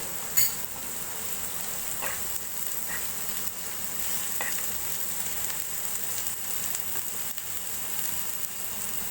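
Onions fry in oil in a home kitchen pan, a steady soft sizzle running throughout, with a few faint utensil clicks and no voices.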